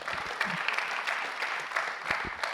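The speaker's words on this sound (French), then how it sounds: "Applaudissements dans la salle." Moderately faint applause in a conference hall at a French hospital-university assembly, a steady patter of many hands clapping with a few louder nearby claps.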